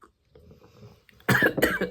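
A person with a scratchy throat coughs twice in close succession, loud and near, after a quiet stretch of low room noise.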